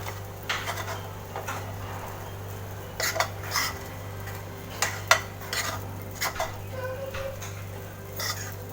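Spiced urad dal roasting in a pan on a gas stove for kachori filling, heard as scattered clinks and scrapes of a spoon against the metal pan over a steady low hum, with no talking.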